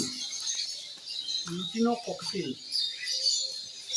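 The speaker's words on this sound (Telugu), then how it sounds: "సో మెనీ బర్డ్స్ ఉన్నాయి." Many birds chatter and chirp in a continuous high twittering chorus in a zoo aviary at Nehru Zoological Park, Hyderabad, home to cockatoos and parakeets, with a louder burst of calls in the middle.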